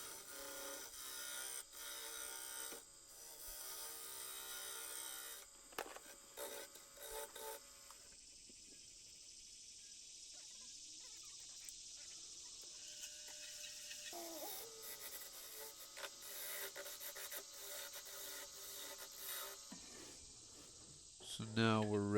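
A wooden bowl's bottom is trimmed on a lathe, a faint high whirring hum with intermittent scraping and rasping bursts from the tool, soft and steady, with no one speaking.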